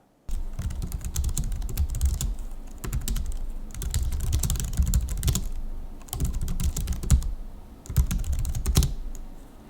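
Fast, continuous typing on a low-cost keyboard for Mac with thin plastic keycaps: close, dense clatter of light plastic clicks in bursts separated by brief pauses.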